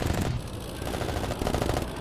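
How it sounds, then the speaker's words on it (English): Rapid continuous gunfire from a Bf 109's cannon and machine guns together in the flight game IL-2 Cliffs of Dover Blitz Edition, a dense rattling burst at moderate loudness. "That's cannon and machine gun combined,"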